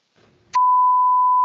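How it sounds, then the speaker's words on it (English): A house fire alarm gives a single steady electronic beep, loud and sustained for about a second, after a brief faint murmur. "something in my house is beeping"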